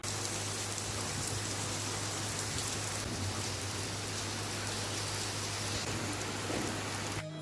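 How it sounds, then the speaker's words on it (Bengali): Heavy rain pours steadily outside a home on a dark afternoon, a dense, even hiss that holds at one level throughout with no voices. "বাইরে প্রচণ্ড বৃষ্টি, একদম অন্ধকার হয়ে গেছে"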